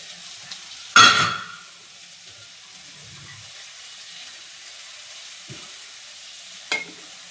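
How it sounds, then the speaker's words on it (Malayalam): Prawns dropped into a hot pan of tomato masala give a loud sizzling burst that fades over about half a second. A second, shorter sizzle follows later over quiet kitchen background. "അതിലോട്ട് നമ്മൾ സ്പെഷ്യൽ ഇൻഗ്രീഡിയൻ്റ് ആയ നമ്മുടെ ചെമ്മീൻ ഇട്ട് കൊടുക്കാം."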